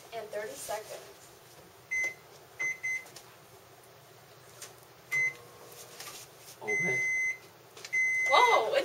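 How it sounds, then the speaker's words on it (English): A microwave oven hums steadily on medium while melting cheese on a plate, several short electronic beeps sounding at intervals, with a voice speaking faintly in the background. "we will melt our cheese, which is on the plate right here, in the microwave"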